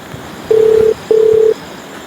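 Two telephone dialing tones, each about half a second long, sound one after the other with a short gap between them. They come through clear and steady over a quiet background.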